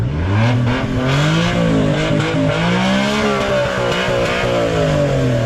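A car engine revs hard and continuously, its pitch rising and falling through several throttle blips, loud and close with no talking.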